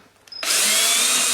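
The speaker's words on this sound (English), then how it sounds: "drill a hole" A power drill starts up after a brief pause and whines steadily, loud and close, as it bores through plywood.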